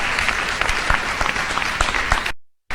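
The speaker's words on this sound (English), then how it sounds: "Please, a round of applause for her." A crowd applauds a third-place winner on stage at a live-streamed competition, with dense, steady clapping that cuts off abruptly near the end.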